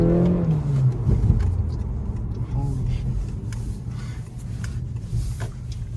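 A 2020 Honda Accord Sport 1.5T engine hums and rises in pitch as the car accelerates, heard from inside the cabin with steady road noise.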